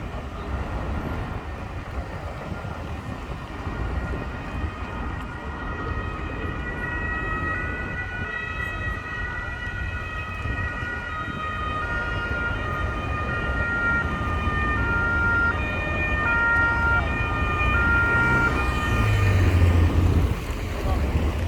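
An emergency vehicle siren wails steadily through a Rome street scene in the evening, its sustained tones rising slightly in loudness over a windy, rumbling background.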